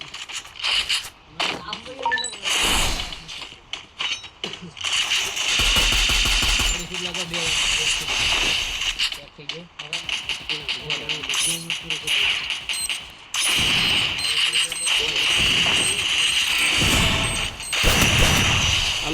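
Rapid bursts of video game gunfire and explosions crackle repeatedly, with voices talking over the action throughout.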